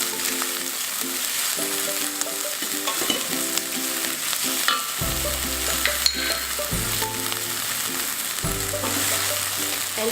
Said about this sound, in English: So now you're going to fry your spring onions.